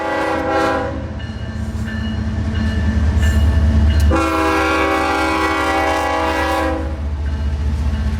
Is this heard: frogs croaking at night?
no